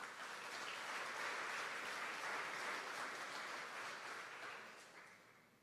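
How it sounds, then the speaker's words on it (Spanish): A church congregation claps for God mid-sermon, broad sustained applause from many people, even and full for most of its length before tapering off near the close, no speech on top. "Denle un aplauso a Dios, por favor"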